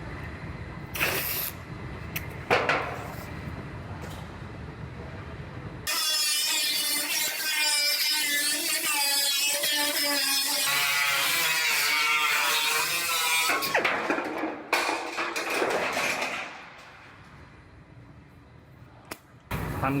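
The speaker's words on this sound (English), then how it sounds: "I'm gonna make this cut on this new floor." A power saw cuts through a new floor panel, a loud, continuous whining rip lasting several seconds. Scattered clunks and handling noises come before and after it.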